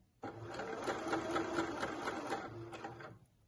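A sewing machine runs steadily for about three seconds, stitching a dress sleeve onto the bodice around the shoulder crown, with a close, even mechanical whir and a rhythmic needle patter before it stops.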